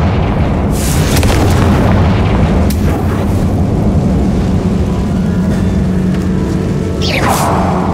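A Confringo blasting spell in Hogwarts Legacy erupts in deep, rumbling booms that roll on continuously, loud and close, with a few sharper whooshes over the sustained low roar.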